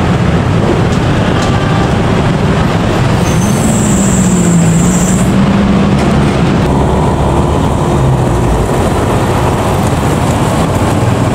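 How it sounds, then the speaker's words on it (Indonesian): A local economy-class passenger train on the Bandung Raya line to Cicalengka rumbles past nearby, loud and continuous, with rolling wheel noise and a brief high squeal partway through. "Kereta api lokal Bandung Raya Ekonomi, semoga lancar, selamat sampai tujuan."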